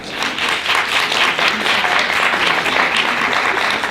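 Steady, dense applause from a conference audience at an International Women's Day event fills the room at even loudness throughout, with no voices over it.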